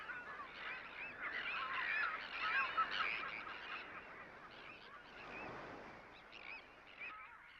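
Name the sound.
colony of wetland birds, geese honking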